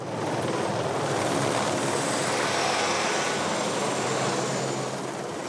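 Helicopter airlifting concrete in a special bucket to a delicate construction site in the Toulouse area, a loud steady rotor and engine roar sustained throughout with no talk.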